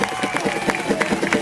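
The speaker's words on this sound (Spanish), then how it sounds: "Les pido un fuerte aplauso para él." An audience at a carnival murga anniversary celebration applauds the founder of murga Los Colifates, giving a dense, steady burst of clapping and crowd noise throughout.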